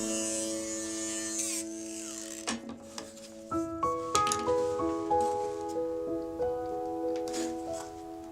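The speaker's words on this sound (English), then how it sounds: "for the tiny hole in the A, I just dremelled it out a bit" A small Dremel rotary tool grinds out a tiny letter hole in thin plywood, its high buzzing whine starting, shifting pitch and pulsing as it bites into the wood, close and alone.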